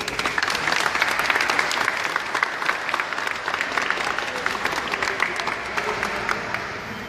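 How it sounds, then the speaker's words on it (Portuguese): Steady, dense applause from a crowd at a poetry evening in a youth centre in Belo Horizonte, loud and continuous throughout for the writers, with no break in the clapping. "eu gostaria de um aplauso para os nossos escritores"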